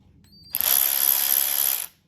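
An S-long 3/8-inch cordless ratchet runs in one steady, loud burst of about a second and a half, with a dense high mechanical whir and pawl clicking heard close up, alone with no speech.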